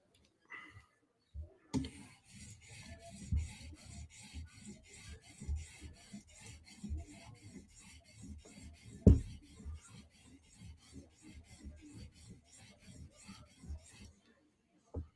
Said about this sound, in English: we're going to drop down to 800 grit stone. Hit that one spot.